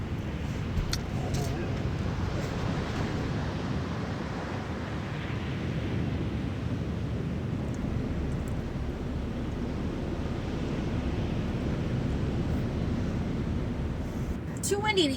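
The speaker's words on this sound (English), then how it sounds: "Too windy to eat outside." Strong wind buffets the microphone on a Padre Island beach, a continuous broadband roar mixed with surf, with a voice speaking briefly over it.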